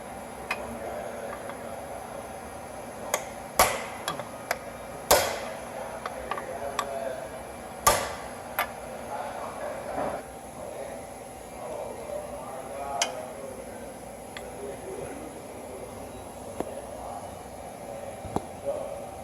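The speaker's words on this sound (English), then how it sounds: "Drove it off basically like this with my hammer and punch." Metal taps ring out irregularly, a hammer striking a punch to knock off a CV axle on a 2007 Chevrolet Cobalt, sharp single hits and short bursts over a steady background hum.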